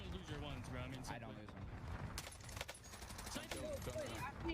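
Rapid gunfire in a Destiny Crucible match crackles in quick bursts, with loud sharp shots mixed under speaking voices throughout.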